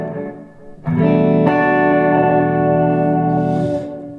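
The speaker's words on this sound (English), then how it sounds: "That's what I like my reverb to do." A sustained electric guitar chord rings out with a wide, spacious reverb tail, a second strum adding shimmer, then fades away.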